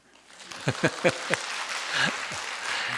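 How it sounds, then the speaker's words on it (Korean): A church congregation at a Korean Wednesday prayer meeting offers a handful of separate hand claps close together near the start, followed by a low murmur of voices and room noise. "박수 한번 할까요?"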